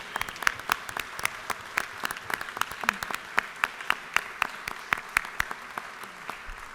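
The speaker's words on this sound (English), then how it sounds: "please honor them with your applause" Scattered applause from members of a state House chamber honoring Realtors in the gallery, a steady run of individual claps at moderate distance, fairly sparse and even in rhythm without voices.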